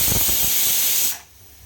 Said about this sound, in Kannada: ಒಂದೇ ಒಂದು ವಿಷಲು, ಜಾಸ್ತಿ ವಿಷಲ್ ಕೂಗಿಸ್ಕೋಬಾರ್ದು